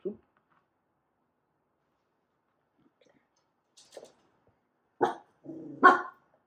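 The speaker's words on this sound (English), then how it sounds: "My dogs are gonna bark." Dogs give a few short barks in a quiet indoor room, scattered and fairly soft, with some brief yips mixed in. Long silent stretches sit between them.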